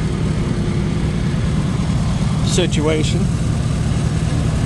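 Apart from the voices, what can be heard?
auctioned machine's engine running and revving with throttle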